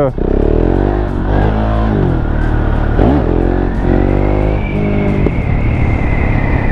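KTM Duke 690 single-cylinder motorcycle engine revving and popping while riding, a loud, close, throbbing engine drone rising in pitch with a few crackling backfire pops, mixed with a person talking over it.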